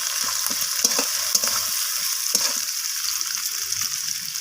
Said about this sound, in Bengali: টমেটোটাকেও আমি সব কিছুর সাথে একটু নাড়াচাড়া করে ভাজা করে নিচ্ছি